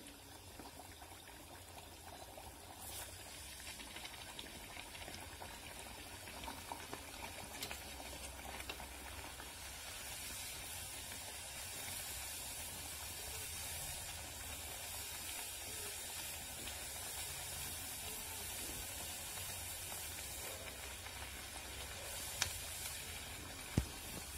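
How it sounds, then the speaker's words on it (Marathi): Steady, dense hissing and bubbling of cucumber vadas frying in hot oil in a kadai, continuous and fairly close, with a couple of faint clicks near the end. "तेल पण गरम झालंय, तर आता आपण वडे तळून घेऊया"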